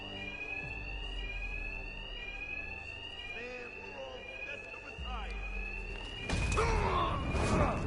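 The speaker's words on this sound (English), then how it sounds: "My attacks will be covered by the noise of the alarm." An alarm in Batman: Arkham Knight rings with a steady, shrill, continuous tone while voices talk underneath, ending in a sudden loud burst of noise.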